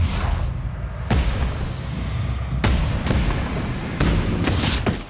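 Gunfire in The Outer Worlds game comes as several loud, booming shots with sharp attacks, spaced a second or so apart, over a continuous rumbling background.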